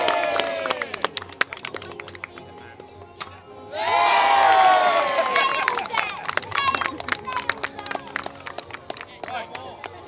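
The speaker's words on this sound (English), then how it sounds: "Nice big encouraging cheer." Crowd at a medieval festival cheers and claps for a sword fight, a loud burst of mixed voices and applause that rises suddenly and then tapers, with scattered claps continuing.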